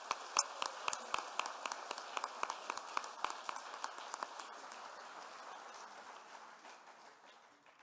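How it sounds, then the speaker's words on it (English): Graduating classmates at a commencement in Fontainebleau clap together, starting as a fairly faint burst of many hands in a room and slowly thinning out. "Please give yourselves a big round of applause."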